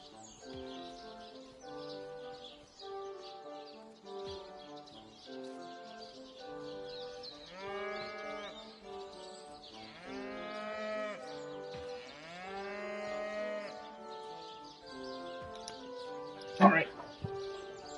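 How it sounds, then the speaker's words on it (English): Cows mooing in the fantasy role-playing game Divinity: Original Sin, several drawn-out, rising and falling calls in sequence over quiet ambience, with a sharp click near the end. "well, at least their mooing is quite funny"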